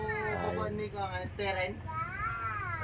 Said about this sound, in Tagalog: May pusa pa kami dito.